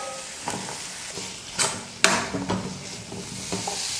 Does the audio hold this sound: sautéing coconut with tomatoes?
yes